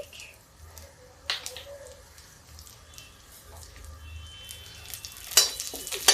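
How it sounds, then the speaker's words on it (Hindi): Whole spices for chana dal tadka (cumin, ginger, cinnamon and red chilli) sizzle quietly in hot oil, a soft crackling fry with bursts of louder spitting near the end while someone talks. "देखिए दोस्तों चने की दाल का मेरे तड़का लग रहा है"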